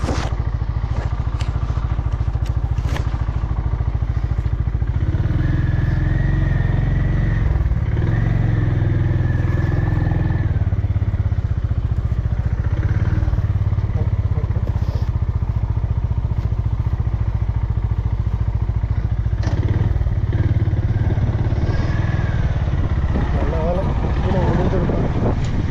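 Motorcycle on a solo ride near Fundera Park in Yelagiri: a loud, steady engine drone with wind rush and rattling, and someone talking over it throughout.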